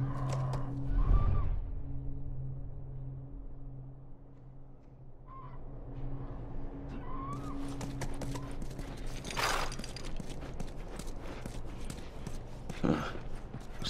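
Horse hooves clip-clop in The Last of Us game, faint footfalls under an ambient background, then a busier stretch of steps and rustling scenery sounds later on, with no talk.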